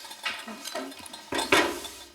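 Dishes and cutlery clink and knock as a dinner table is laid with collected tableware, with several irregular close clatters and a louder rattle near the end, while people talk quietly.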